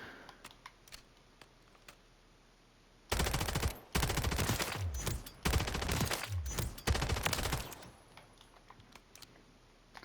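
Rapid SMG fire in a first-person shooter game, several loud automatic bursts in quick succession between quieter moments, with sharp mechanical clicks before and after.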